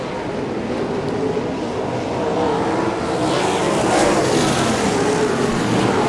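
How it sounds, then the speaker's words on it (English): Continuous loud engine roar of sprint cars speeding around a dirt track at Kern County Raceway, a steady mechanical drone that swells slightly toward the end, no voices. "Chase Johnson finds a nice smooth line through turns 1 and 2"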